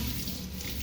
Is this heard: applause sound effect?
no